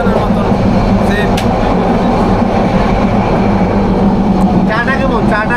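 Subarno Express passenger train running between Dhaka and Chittagong, heard from inside as a loud, steady rumble with rhythmic wheel clatter and occasional squeals, with voices talking in the carriage.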